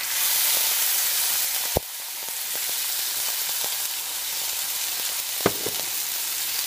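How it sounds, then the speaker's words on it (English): Meatballs and marinara sauce sizzle in a pan, a steady close frying hiss that shifts as the sauce goes in, with a couple of sharp knocks from the pan or utensil. "and I'm going to put in the meatballs. And I'm going to put in some of this marinara sauce."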